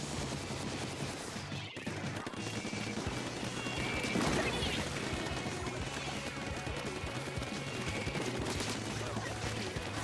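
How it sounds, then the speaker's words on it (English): Bomb launchers and rapid weapon fire in the Splatoon 2 video game, a dense, continuous barrage of pops and crashes through a chaotic match, with a louder burst near the middle. "I'm actually not used to people using the bomb launchers."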